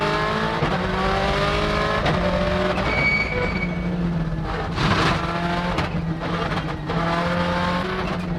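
An angry, raw-sounding 2000 Subaru rally car engine revs hard through several rising gear changes, loud and close, with brief bursts of tire and gravel noise between pulls.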